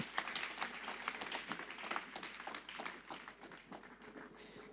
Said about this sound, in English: Let's put a round of applause once again for our panelists.